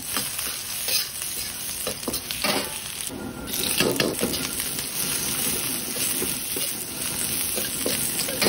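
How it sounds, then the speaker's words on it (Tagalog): Garlic and onion sautéing in hot oil in a wok for a stir fry, a steady loud sizzle with stirring scrapes running continuously throughout, briefly swelling partway through. "Ayan, nag-prepare na rin po tayo ng mantika sa ating kawali at ginisa na natin ang ating bawang."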